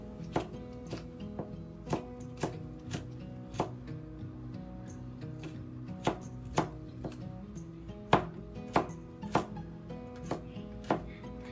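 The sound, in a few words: knife slicing ginger thinly on a board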